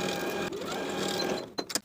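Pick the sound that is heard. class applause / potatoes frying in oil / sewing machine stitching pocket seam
sewing machine stitching pocket seam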